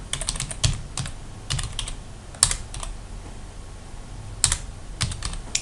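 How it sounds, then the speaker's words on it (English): Typing on a computer keyboard, irregular clusters of crisp key clicks and a few louder taps, close and alone with no talk. "if I can type"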